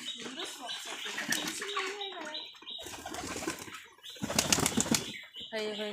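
Pigeons flap their wings at a rooftop loft in a house, with bursts of close wingbeats and fluttering among cooing and other bird calls, while people talk over the activity.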